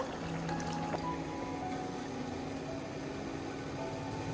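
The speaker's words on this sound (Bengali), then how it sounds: "গরম পানি দিছি" Hot water poured into a cooking pot before biryani spices go in, a steady broadband liquid rush running continuously and fairly close throughout, with no talking.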